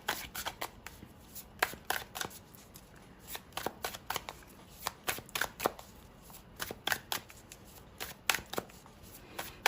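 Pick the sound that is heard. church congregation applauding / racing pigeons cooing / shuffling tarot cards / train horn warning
shuffling tarot cards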